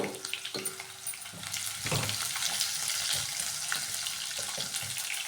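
Thinly sliced onion drops into hot oil with cumin and mustard seeds, the sizzle swelling into a loud, continuous hiss after a few clinks at the start.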